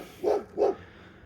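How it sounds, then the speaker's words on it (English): A dog gives two quick barks, close by and fairly loud, followed by quiet. "Excuse the dog barking."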